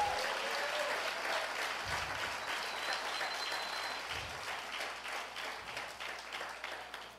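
A church congregation applauds during a sermon in Barquisimeto: dense, continuous clapping from many people fills the room at moderate volume, gradually thinning and fading toward the end.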